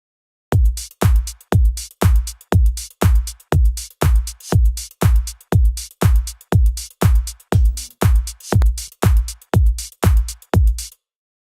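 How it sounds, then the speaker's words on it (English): Simple electronic dance groove, a steady, evenly spaced pulse of punchy low hits layered with bright clap and hi-hat transients, repeating about twenty times at a constant tempo with no voices. "It's a fairly simple sort of dance groove."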